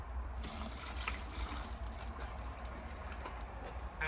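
Water poured off an opened tub of lime putty, a continuous close splashing pour with a slight trickle, steady throughout and louder at the very end.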